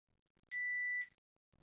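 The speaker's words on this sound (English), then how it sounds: "Just heard the beep." A Panasonic DECT cordless phone gives a single steady electronic beep lasting about half a second during a factory reset, clear and alone in a quiet room.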